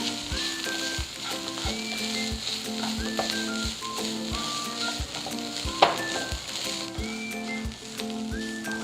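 Chicken filling with turmeric powder stirred in a hot pan, a steady close sizzle and fry with the spatula scraping and tapping at intervals, no voices.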